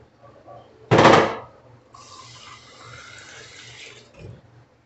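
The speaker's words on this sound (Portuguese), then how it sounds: "Agora eu vou colocar água, mas não vou colocar muita." Water poured into a cooking pot of beef for a pot roast, a brief loud splash followed by a steady, moderate pouring stream for a couple of seconds, alone with no talk.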